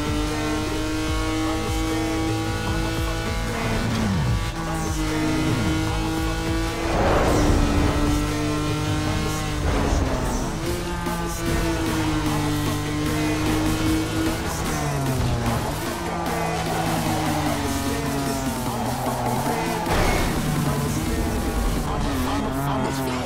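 A car races in Need for Speed: Underground 2, with engine revs rising and falling through gear shifts and brief tire squeals, continuous and loud, and someone talking at times over it.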